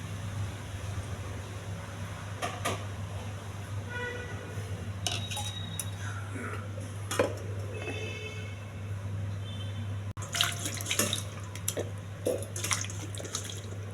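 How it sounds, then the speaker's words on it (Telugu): Tap water runs and splashes while grapes are rinsed in a bowl at a kitchen sink, with steady flow, intermittent clinks of dishes and bursts of louder splashing near the end. "మళ్ళీ ట్యాప్ వాటర్తో కడుగుతాం"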